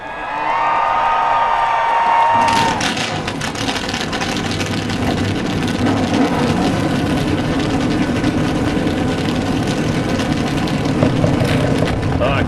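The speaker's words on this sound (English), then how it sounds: "Great sound, the engines." NASCAR Sprint Cup stock car engines fire up together at the Good Sam 500, a loud, dense engine roar that swells after a tone and holds steady under a broad crowd wash.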